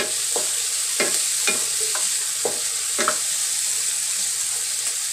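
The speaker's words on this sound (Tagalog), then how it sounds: "Saka gisa na rin natin yung kamatis mga kaulam" Tomatoes sautéing in a pan for pork-leg sinigang give off a steady, close sizzle, broken by several sharp stirring scrapes spaced about a second apart.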